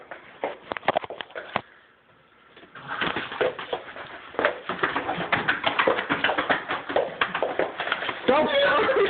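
A bird loose indoors, flapping and fluttering amid bumping and scuffling while several people shout and talk excitedly close by.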